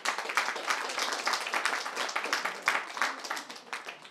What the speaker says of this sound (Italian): Un forte applauso per Simona Bertocchi.